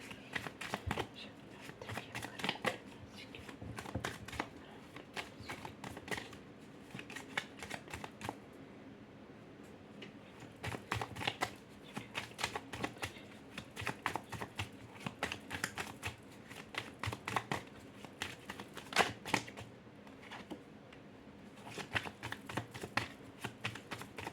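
Tarot cards are shuffled and drawn in steady bursts of quick, crisp flicking and riffling that repeat for over twenty seconds, fairly faint and without talk.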